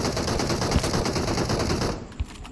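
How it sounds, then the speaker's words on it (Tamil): Rapid automatic gunfire in the mobile battle game BGMI rattles loud and dense for about two seconds, then breaks into a couple of isolated shots. "இந்த வீட்ல இருந்து எவனோ சுட்டான்."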